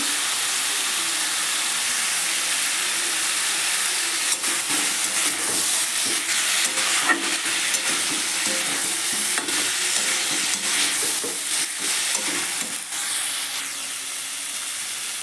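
Cauliflower with green chillies, Kashmiri chilli powder, spices and a bay leaf sautéed in a pan gives a steady, loud sizzle, broken by irregular scraping stir strokes throughout.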